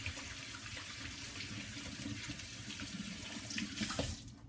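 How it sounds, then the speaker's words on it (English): Running tap water streams into a kitchen sink as hands are washed after handling onions and garlic, a steady close splashing flow that ends abruptly. "Just wash my hands in case I touch my eyes from the onions or the garlic."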